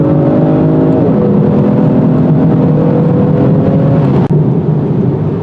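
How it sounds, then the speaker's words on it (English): Steady roar of wind rushing around the side mirrors of a 2019 Genesis G70 V6 Turbo at highway speed, loud and continuous with road hum beneath and a faint engine tone. "At high speeds, there's a lot of wind noise around the mirrors."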